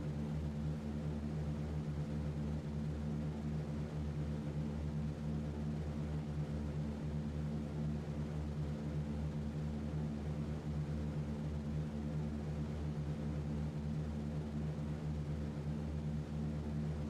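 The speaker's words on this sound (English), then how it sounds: "Here goes this bomber as well." Bomber plane taking off in a flight-simulation game, a steady low propeller engine drone, constant and moderately loud throughout with no speech.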